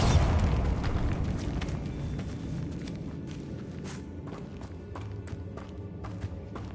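A Bombarda spell explodes in the Hogwarts Legacy video game with a loud low boom at the start, then decays into a rumbling tail broken by scattered pops and footsteps.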